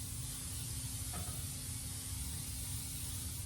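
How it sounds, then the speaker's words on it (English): A continuous hissing spray of aerosol cooking spray greasing a baking pan at a sink, steady and moderately close, with a brief clink partway through. "You can use butter, you can use the cooking spray like I am"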